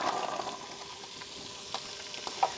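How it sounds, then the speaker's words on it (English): Onions, carrots and celery sautéing in a pan, a quiet steady sizzle with a few faint utensil taps. "Now we're gonna throw in our onions, our carrots, and our celery."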